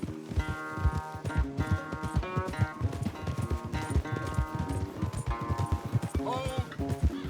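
Horses gallop in a race in the video game Red Dead Redemption: rapid, close, rhythmic hoofbeats pound continuously, with voices and tonal game sounds layered over the clip-clop.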